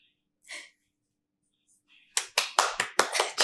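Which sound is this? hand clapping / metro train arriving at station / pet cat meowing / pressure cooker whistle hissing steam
hand clapping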